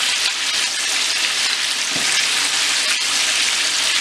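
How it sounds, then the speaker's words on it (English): Chicken pieces dredged in flour fry in a cast iron pan, giving a steady, close, crackling sizzle that holds for the whole stretch with no voices. "just placing it in there, and while it's frying up"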